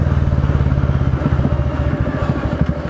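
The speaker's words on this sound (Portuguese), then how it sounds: "Nós estamos a 40 por hora em quarta marcha, cara. O motor tá aqui quase que na marcha lenta" A Royal Enfield Meteor 350's long-stroke single-cylinder engine chugs near idle at 40 km/h in fourth gear, a loud, close, steady low thumping pulse with exhaust beat throughout.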